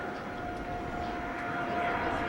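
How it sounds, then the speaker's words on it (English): Jet aircraft passing overhead near the regional airport at Whitehorse, a steady broad roar that holds level throughout, with a faint tonal whine running through it and no voices. "Here, jet going over."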